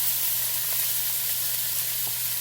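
Five chicken breasts coated in cilantro-lime seasoning and honey brown in a pan over high heat, giving a steady, dense sizzle that stays loud and close throughout with no talking.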